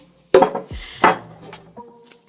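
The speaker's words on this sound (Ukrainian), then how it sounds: "Тарілку кладемо догори дном" Two sharp ceramic clunks as a plate is set down upside down on a hard surface, followed by a faint scrape and quiet handling.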